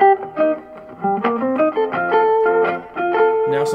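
Electric guitar improvising over chord tones for a song, clean-to-slightly driven single notes and double stops moving in a steady melodic line, close and alone without talk.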